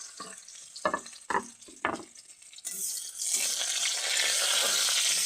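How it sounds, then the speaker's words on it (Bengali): Chopped garlic hits hot oil already popping with mustard seeds, and after a few scraping stirs and clatters a bright, steady sizzle rises and holds, close and moderately loud. "রসুনটা ভালো মতন ভাজা হয়ে যায়।"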